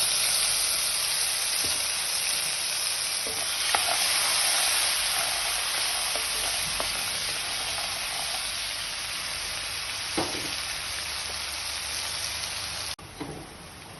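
Ginger, garlic, onion, chili and tomato paste frying in oil for a pointed gourd (potol) curry, giving a steady broadband sizzle throughout with a few faint clicks and taps of utensils.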